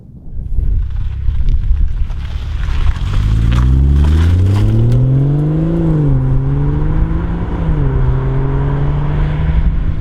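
A BMW M240i with a 3-litre straight-six single turbo engine accelerates hard, its engine note rising steadily through a gear and then dropping back. The loud, close growl has no talk over it.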